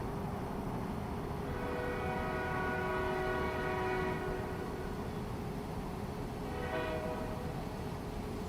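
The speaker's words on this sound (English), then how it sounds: "Loud ass train." A loud train rumbles past continuously while its horn blares in two long blasts, one lasting a few seconds and a shorter one near the end, over steady rail noise.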